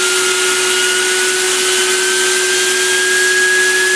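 Turbocharger whining as it builds pressure, a loud, steady high-pitched tone that rises slightly over a constant rushing air noise, close and continuous with no talking.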